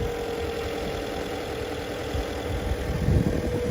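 A 2018 Jeep Compass Limited with a 2.4-liter MultiAir Fiat four-cylinder idles, giving a steady mid-pitched hum with a faint tick that swells slightly near the end.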